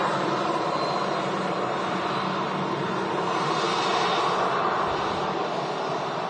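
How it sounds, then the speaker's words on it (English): Airbus A320 jet airliner at Manchester Airport, a steady broad roar of engines heard from a distance, holding evenly throughout with no talk. "Two A320s in a row from two different flight carriers."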